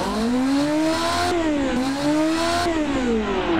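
A 1970s Lotus 72 Formula One car engine revs in BeamNG, rising in pitch twice in a row with a brief cut in between, loud and close with a bright, buzzing whine throughout.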